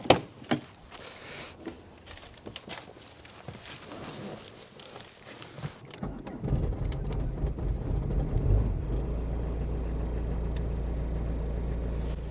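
A 1993 Citroen Xantia 1.9 diesel starts from cold: quiet clicks and shuffling, then the engine catches and settles into a steady, low diesel idle rumble that continues to the end.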